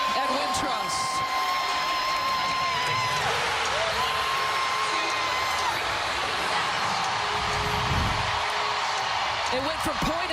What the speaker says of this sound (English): Look at the crowd reaction at Wintrust.